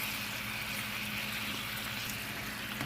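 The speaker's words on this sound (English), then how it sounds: "I'm just gonna pour the sauce over the pork chops" Sauce pours over pork chops in a hot pan, giving a steady bubbling, sizzling wash of liquid that stays even and close throughout the short moment.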